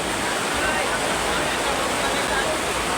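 Heavy rain pouring at the Porbandar Chowpatty fair, a dense, loud, continuous roar of rainfall with crowd noise mixed in.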